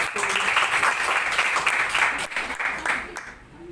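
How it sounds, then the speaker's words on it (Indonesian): An audience at a school teachers' presentation applauds class examples, a steady patter of many hands clapping indoors that fades out near the end, mixed with some background voices. "Kita kasih aplaus."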